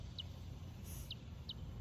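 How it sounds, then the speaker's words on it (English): A mockingbird sings outdoors, giving three short, bright chirps spaced about a second apart, moderately faint over a steady low background rumble. "It's a mockingbird."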